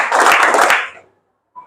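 Classroom students clapping together in a counted pattern, a dense burst of many hands for about a second that stops abruptly, then silence and a faint start of the next round.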